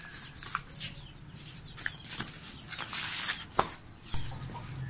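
Hens cluck now and then amid scratching and rustling, with short bursts of clucking close by and a steady low background hum.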